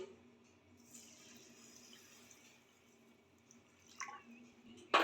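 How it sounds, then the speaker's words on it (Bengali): Water is poured into a bowl to soak Gobindobhog rice, making a faint, gentle trickle and splash that ends with a brief louder slosh. "এবার জল দিয়ে দিচ্ছি"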